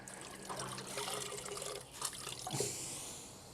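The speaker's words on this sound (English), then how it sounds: "go ahead and squeeze the water out from the dough machine" Water squeezed and dripping out of a dough mixer machine during cleaning, a steady wet trickle and splashing that swells near the end, fairly quiet and close, with no talking.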